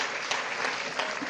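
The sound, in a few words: audience applause for the president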